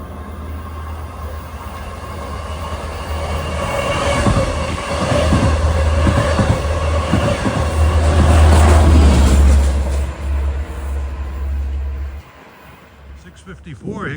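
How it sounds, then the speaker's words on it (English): A Long Island Rail Road train bound from Oyster Bay to Jamaica rolls into New Hyde Park station with a loud, steady rumble and low engine drone that swells, then cuts off abruptly. "Here comes train 565 en route from Oyster Bay to Jamaica."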